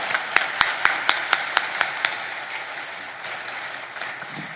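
A church congregation claps to welcome a pastor. Around nine loud, sharp claps fall in a fairly even rhythm at the start, then fade into softer, diffuse applause and room noise.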